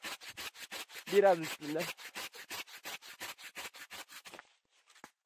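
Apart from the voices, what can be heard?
hand saw cutting walnut branch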